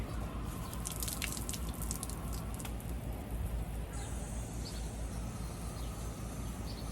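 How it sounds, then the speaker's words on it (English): Water running and splashing over freshly harvested produce from an edible landscape garden being rinsed outdoors, a steady broad wash with drips, moderately close and continuous. "Just start rinsing things."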